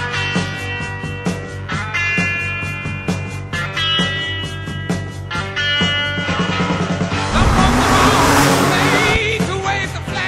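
A Porsche Taycan Turbo S's synthetic, futuristic drive tone in sport mode, with layered tonal hums, swells steadily, rising into a brighter, noisier whoosh near the end; loud and continuous.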